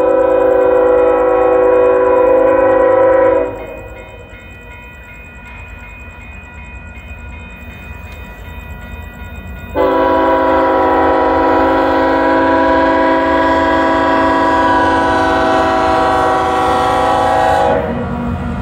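Union Pacific manifest freight train UP 8133 rolling slowly through a road crossing, its horn blaring loud and close in long sustained blasts, a quieter stretch of rumbling wheels and cars between them, then the horn returning and holding.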